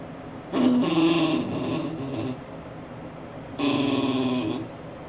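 A dog growls and whines close by in two drawn-out, throaty bursts separated by a short pause, with a low rumble under a thin nasal whine.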